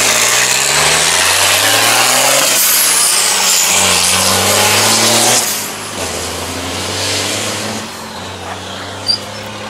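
At the start of a Silk Way Rally 2018 stage near Elista, a Kamaz truck and a Toyota Land Cruiser launch together, their engines revving loudly with rising pitch before the roar gradually recedes into the distance.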